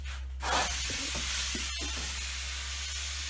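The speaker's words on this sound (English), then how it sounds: "I'm going to use just a fine misting spray on that" A steady broadband hiss of a garden hose on fine mist setting continues throughout, close and even, with a low background hum and faint brief clicks.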